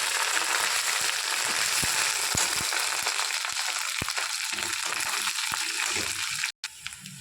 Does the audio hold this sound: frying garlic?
yes